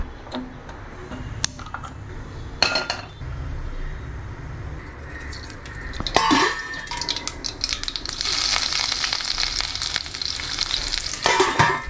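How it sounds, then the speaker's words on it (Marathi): Mustard seeds, ginger and chilies temper in hot oil, crackling and sizzling with sharp pops and spatters that grow denser and louder over time, alongside occasional stirring clinks. "फडनाक तेल सासम अल्ले मिरसांग घाल्ला हांगात"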